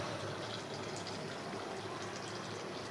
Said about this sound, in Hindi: और 1 प्याली पानी